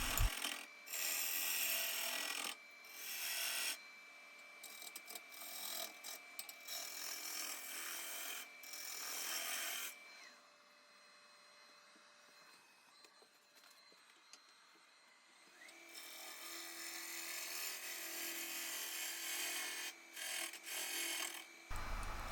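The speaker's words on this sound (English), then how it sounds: "It's still a bevel rubbing cut, and it's very, very effective for taking a lot of material off quickly." Woodturning gouge taking a bevel rubbing cut on a wooden hollow form on the lathe, a harsh continuous rasping scrape with steady hiss, easing off briefly midway before resuming, close and loud.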